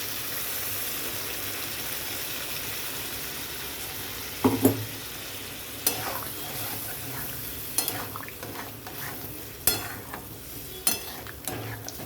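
Chicken frying in a pan with tandoori chicken masala as water is poured in, a soft continuous sizzle with a few sharp clinks and stirring scrapes, no talk.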